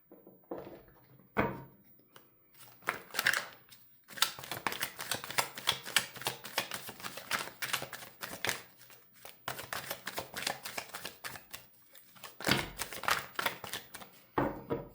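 Tarot cards shuffled by hand in fast riffling bursts, with brief pauses and a few louder taps, close and without talk.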